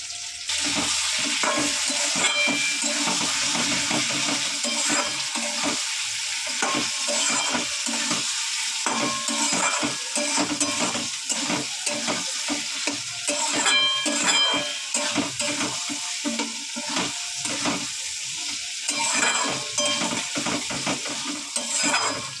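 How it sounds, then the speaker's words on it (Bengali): Potatoes with spices and turmeric frying in a pan, a continuous sizzle broken by frequent scraping and stirring strokes of a utensil against the metal, steady and close throughout. "এইবারে আলুটা দিয়ে কিন্তু এইবারই হচ্ছে কষানোর পালা"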